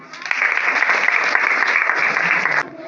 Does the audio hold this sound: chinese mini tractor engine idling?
no